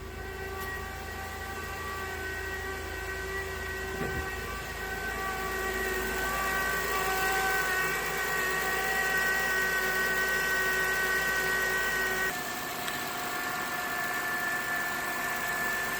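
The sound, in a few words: turbine-like whine from 2012 Acura TL engine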